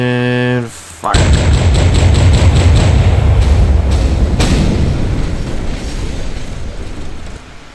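A cannon firing in Garry's Mod: after a brief tonal hum, a loud close boom erupts and rolls into a long rumbling decay, with faint voices underneath.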